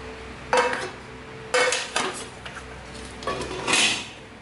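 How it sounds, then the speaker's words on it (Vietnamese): An unused Japanese cooking pot is handled and set down, giving four or five separate metallic clanks and knocks with quiet pauses between them. No one talks. "Đó, cái nồi."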